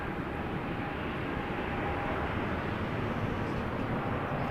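An Air Canada Boeing 777-200 at Toronto Pearson, bound for Delhi, readies for takeoff with a loud, steady, broadband jet engine roar that holds constant throughout.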